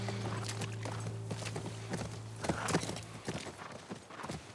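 Horse hooves clip-clop at a walking pace in The Last of Us, a steady run of sharp, fairly close hoof strikes over a faint low hum, with no talk.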